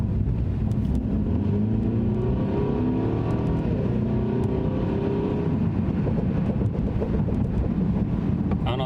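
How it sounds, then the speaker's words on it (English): Mercedes C300 W205 car fitted with an aftermarket diverter and blow off valve, accelerating hard on a bumpy road, with its tune producing pops and bangs; a continuous engine roar with rising tones, heavy wind buffeting over the whole run. "You guys can probably hear the pops and bangs from my tune"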